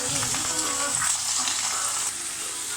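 Lamb and onions frying in a pan for a lamb curry with courgette, a steady close sizzle with soft crackle running evenly throughout, no talking.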